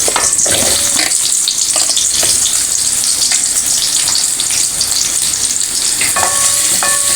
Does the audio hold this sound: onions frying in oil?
yes